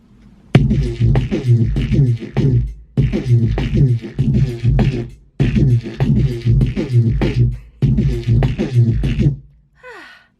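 A looping drum beat with a heavy bass layer beneath it, repeating in four dense bars separated by short pauses.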